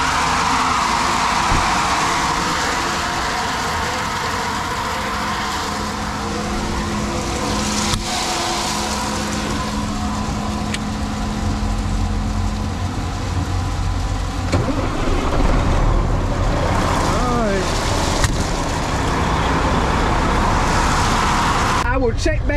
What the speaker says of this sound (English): I'm pulling over here and starting this truck up so it can be airing up